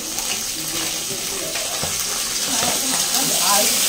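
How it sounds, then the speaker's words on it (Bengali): Fish frying in hot oil, giving a continuous bright sizzle with scattered pops and spatters up close, growing slightly louder toward the end. "কিন্তু এই মাছটা কেন তো ফাটছে, বহুত ফাটছে মাছগুলো"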